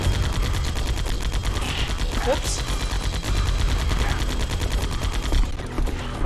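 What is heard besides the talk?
machine gun fire in a video game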